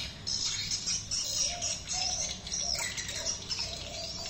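Thin, high bird chirps from a recorded roosting lure call repeat over steady background hiss and a faint low hum, moderately quiet throughout.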